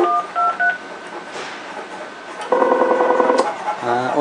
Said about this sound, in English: and you can start dialing.